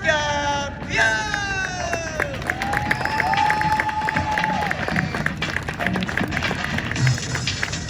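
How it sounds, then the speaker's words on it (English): Crowd applause and cheering for parachute jumpers at an air base air show, a broad outdoor wash of clapping and voices with a loudspeaker announcer and whistle-like tones riding over it. "Let's get one more round of applause for today's jumpers"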